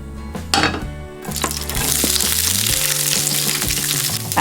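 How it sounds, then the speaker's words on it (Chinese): Green peppers stir-fried in rendered pork-belly fat in a wok crackle and sizzle loudly and continuously up close, with spatula scrapes and clanks at the start and a dense, bright hiss throughout. "把青椒翻炒，裹上油脂，再下入葱蒜，一起翻炒"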